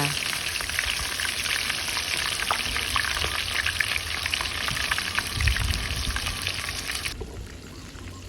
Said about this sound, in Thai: เอาปลาลงทอดเลย เขาก็จะทอดจนกว่าวาปลาเขาสุกจ้า